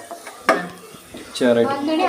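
Cashews and raisins frying in ghee for kesari, with a spoon stirring in the pan, producing short clinks and scrapes and a rising close sizzle toward the end.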